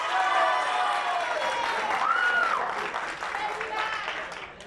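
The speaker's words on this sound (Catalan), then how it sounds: "Un aplaudiment, si us plau" Audience clapping for a school team's score on a televised spelling quiz show, dense applause mixed with a voice and musical tones, fading toward the end.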